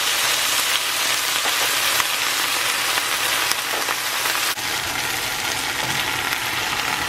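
Soy sauce poured over thyme and ginger paste in a small wok sizzles in a dense, steady hiss like rain, holding loud and constant with a few faint clicks and no voices.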